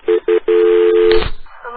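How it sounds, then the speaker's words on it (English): Touch-tone DTMF dialing on a telephone: two short beeps, then a long steady tone, followed by a click and a brief burst of noise, loud and close with no voices. "I'm going to click over and dial"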